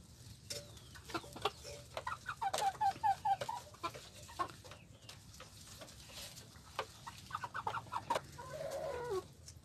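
Chickens cluck softly and repeatedly at close range, with short bursts of clucking and faint scratching or pecking sounds in between.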